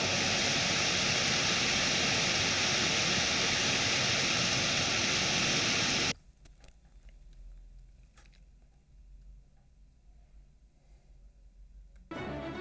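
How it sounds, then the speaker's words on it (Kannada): Floodwater rushing into the Savadatti Yallamma temple during heavy rain makes a loud, continuous roar for about six seconds. It then drops to a faint background and surges back briefly at the end. "ದೇವಸ್ಥಾನದ ಒಳಗೆ ನೀರು ನುಗ್ಗಿದೆ"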